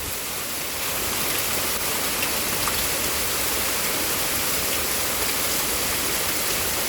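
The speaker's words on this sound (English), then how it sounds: "But the rain's picking up, that's why." Heavy rain pours during a storm in Pittsburg, Kansas, as a dense, steady hiss of downpour that strengthens slightly after the first second and then holds constant with no voices.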